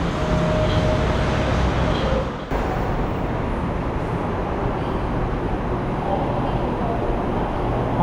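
A continuous low rumbling roar of a train passing nearby inside a building, steady and broad throughout, with no clear voices.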